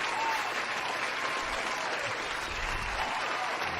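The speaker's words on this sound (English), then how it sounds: "The crowd is hype." A crowd applauds steadily and loudly at a live sports talk show about the Dallas Mavericks, a dense wash of clapping that holds evenly throughout with no voices rising above it.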